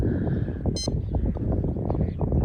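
A short, high electronic beep chirps once over steady wind-like rumble and background noise outdoors while fishing in a village.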